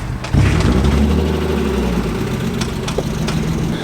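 BMW E36 drift car engine running loud and steady at a raised idle, a low rumbling drone with slight rises and a few sharp clicks, heard alone without talk.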